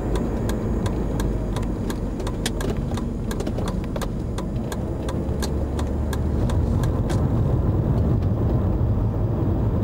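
A Mercedes 300E engine running steadily after warming up, a continuous mid-pitched idle hum with faint ticking, heard close and alone with no talk.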